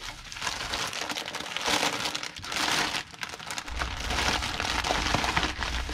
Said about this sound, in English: And I'm just going to take a poly bag.